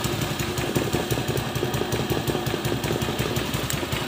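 A Honda Vario scooter engine runs at a steady idle with a rough, pulsing mechanical drone, loud and close throughout.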